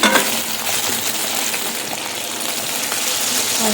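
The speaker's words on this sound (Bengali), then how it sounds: "আর ওই তেলেই রাখা আলু টমেটো মটরশুটি একটু দিয়ে নেড়ে ছেড়ে স্বাদ মতো নুন দিয়ে দিলাম" Potato, tomato and peas frying in the oil left from frying rohu fish, stirred in the pan with a loud, continuous hissing sizzle and some light scraping throughout.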